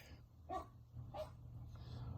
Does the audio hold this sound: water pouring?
no